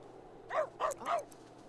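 A stray dog in The Sims 3 lets out three quick, close barks in an even rhythm, clear and alone against a faint background.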